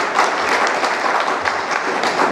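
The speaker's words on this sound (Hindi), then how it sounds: "जोरदार ताली आप लोग बजा दीजिए।" A crowd at a state-level party meeting breaks into loud, sustained applause, many hands clapping in a dense, even roar that fills the room from start to finish with no talking over it.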